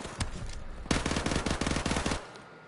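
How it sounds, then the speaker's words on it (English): Rapid video-game gunfire: a single loud shot, then a sustained automatic burst of closely spaced shots lasting over a second before it stops. "I shot him so many times!"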